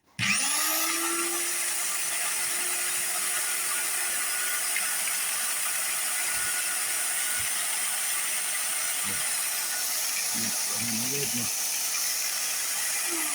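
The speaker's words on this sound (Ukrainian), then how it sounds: "Хочу продемонструвати, як вона точить." A steady, loud mechanical grinding whir runs throughout, like a powered sharpener working a blade, with a few faint scrapes and clicks near the end.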